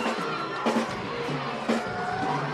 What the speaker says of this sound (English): I'm just going to let the crowd make noise after that big kill from Carly Evans.